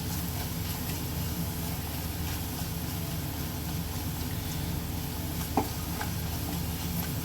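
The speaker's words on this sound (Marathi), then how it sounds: "आता हे मसाले कांद्याबरोबर छान एकजीव करून घेऊया" Quiet, continuous sizzle of spices and onions in a pan, with soft scraping of a spoon stirring, and one brief clink near the end.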